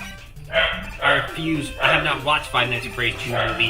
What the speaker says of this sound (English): That's my dog, by the way. He's a very good dog. He's a Labradoodle.